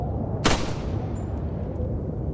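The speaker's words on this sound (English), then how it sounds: "But then when there's the gunshot," A single sharp gunshot cracks out in the Resident Evil 4 Remake video game, one brief loud burst standing out from a steady low rumble of wind ambience.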